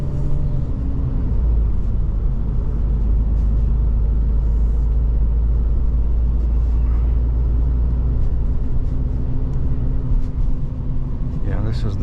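A pickup truck drives across a restricted bridge, its steady low engine and road rumble running continuously and loud throughout, with people talking over it.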